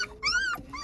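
West Siberian Laika puppies whimpering and growling up close, a short rising whine followed by softer yips and a low rumble, brief and without talk.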